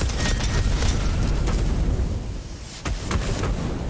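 Fireball explosions in the video game Witchfire hitting armoured grenadier knights: a loud, continuous roaring blast with dense rumbling bursts and a couple of sharper cracks.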